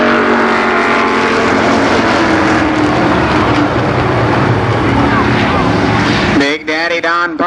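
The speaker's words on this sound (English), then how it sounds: "They're racing 4 laps, your fastest 4 street stock qualifiers." Street stock cars racing at Columbus Motor Speedway in 1990, a loud dense roar of engines sweeping past that drops away abruptly near the end, leaving a brief squealing tail.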